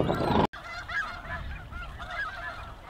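Cranes at Bosque del Apache give loud, rolling honking calls close by, opening with a strong burst and followed by a string of repeated trumpeting notes over outdoor ambience.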